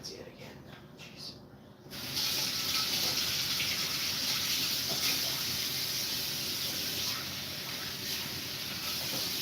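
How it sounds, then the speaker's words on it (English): Water runs hard from a tap during handwashing, a loud steady hiss that starts after a brief quieter moment and continues unbroken to the end. "So I'm gonna wash my hands yet again."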